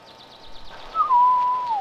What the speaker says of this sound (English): She liked to sit on the porch of her cabin and listen to the birds sing.